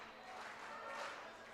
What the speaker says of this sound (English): you can hear the clapping from those Willard fans